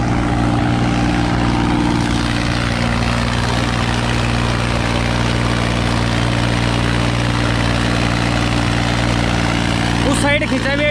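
A tractor engine drones loud and unbroken while it hauls a load of sacks in a tractor pulling competition, with the brakes held as it strains against the weight.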